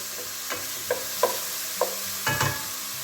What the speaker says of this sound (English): once our mushrooms are starting to take on a bit of colour, we'll just push these to the side of the pan